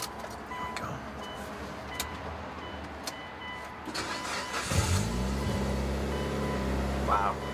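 A 2003 Mitsubishi Lancer Evolution VIII with 76,000 miles cranks and fires up about halfway through, settling into a steady, loud idle up close after a few seconds of quiet key and cabin sounds.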